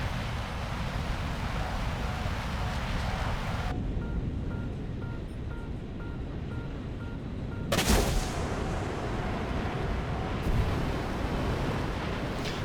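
AIM-9L missiles fired at an aircraft in a combat flight video game: a sustained loud roaring rush with abrupt shifts in tone, a sharp burst near the eighth second and another loud crack later.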